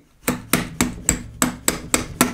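A pin is tapped back into a pistol's mainspring housing, heard as eight sharp, evenly spaced metallic hammer taps close by, each with a short ring, and no voices.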